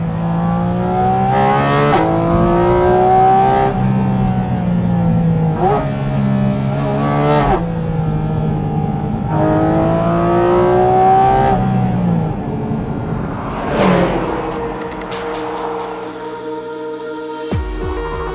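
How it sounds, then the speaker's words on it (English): Porsche Cayman GT4 RS engine induction roar heard from the cabin, loud and close: several hard pulls that climb in pitch through the revs, each cut by a brief shift, and finally easing off into a lower drone. No talking. "what you get is a massive hit of pure induction noise straight into your ears"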